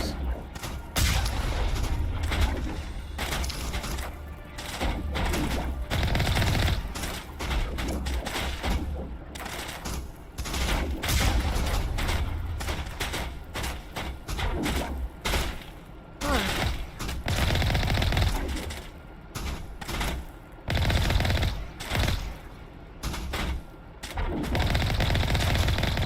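Dense video game gunfire in Mass Effect 1, a sustained loud rattle of rapid shots and booms with little pause, overlaid by a game soundtrack and occasional voices.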